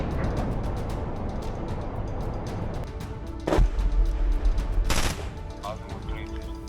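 Gunfire exchanged between an advancing Russian convoy and Ukrainian troops: a steady rattle of shots under a constant battle din, with two louder sharp blasts about a second and a half apart partway through.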